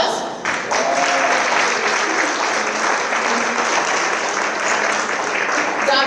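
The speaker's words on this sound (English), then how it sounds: "Round of applause." An audience at a panel discussion on power, economic control and leadership applauds the panelists, a dense, sustained patter of many clapping hands that swells briefly at the start and holds steady.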